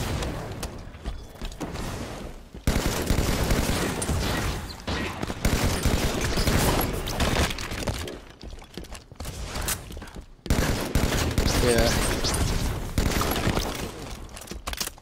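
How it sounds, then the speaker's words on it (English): Rapid bursts of Halo 2 battle rifle fire in Halo 5 multiplayer, dense repeated crackling shots with brief pauses, loud and continuous over game ambience. "I go ham with the Halo 2 battle rifle"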